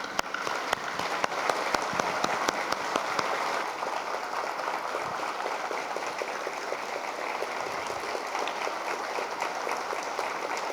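Men in a church congregation giving a round of applause to honour the women, with dense, sustained clapping and a few sharper individual claps through the whole stretch, fairly loud and even.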